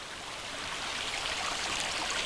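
Meltwater runs over a beaver dam in a steady, close rushing flow with a bright, hissy trickle and no pauses, alone without any voices.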